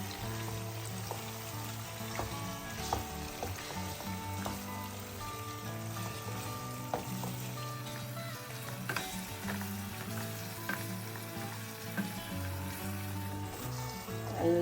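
Chicken frying in ghee for a ghee roast, a continuous close sizzle with occasional stirring scrapes and small pops throughout, steady and uninterrupted.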